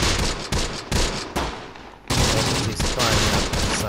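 Gunfire rattles through a Close Combat: The Bloody First battle, with repeated sharp bursts of rifle and automatic fire layered over a continuous loud crackle, intensifying midway.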